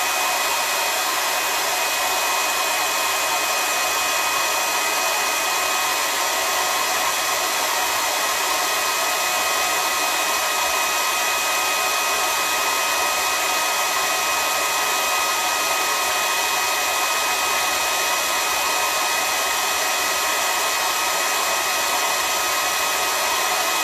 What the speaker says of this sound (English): I'm going to take the hairdryer for a few seconds and kind of dry it.